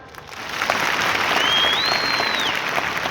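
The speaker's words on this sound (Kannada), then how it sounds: "ಒಂದು ಸರಿ ಚಪ್ಪಾಳೆ ಹಾಕ್ರಿ" An audience claps together at a religious discourse during the Siddaganga Math fair: a dense, loud burst of applause that rises quickly and holds steady, with a thin whistle audible partway through.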